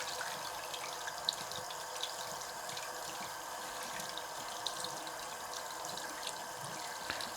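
A Nitecore NU35 headlamp, gaskets sealed, sits submerged in water for a rain test, with a faint, continuous watery wash and a few soft, scattered drips throughout.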